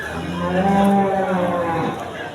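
A large jumbo cow at a cattle market gives one long, loud, close moo that swells and fades over about two seconds.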